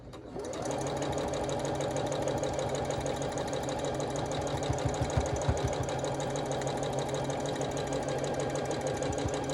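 A sewing machine stitches a Lori Holt Home Town quilt block, running steadily and loudly all the way through with a fast, even mechanical rattle and hum.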